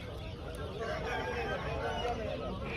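Chickens and roosters at a busy poultry market, a dense crowd of clucking and crowing fowl under steady market noise with voices mixed in.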